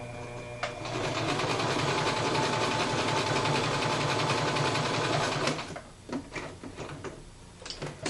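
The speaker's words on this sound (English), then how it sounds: "before I go ahead and sew so my machine's not too loud" A sewing machine runs a straight long stitch down the center of a ribbon, whirring steadily for about five seconds before stopping, followed by scattered clicks and handling sounds nearby.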